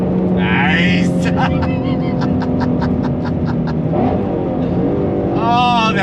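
A 2020 Shelby GT350R's engine is revved hard to high RPM, a loud sustained roar with rising pitch and a quick series of pulses, heard close up with voices talking over it.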